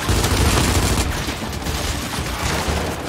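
Loud, dense bursts of gunfire from the video game Gears 5, rapid overlapping shots and booms filling the whole stretch without pause.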